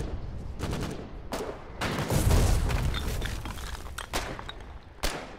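Heavy 120mm artillery shelling in the war game Foxhole, with repeated booming blasts and crackling bursts piling over one another, loud and continuous with sharp reports standing out near the end.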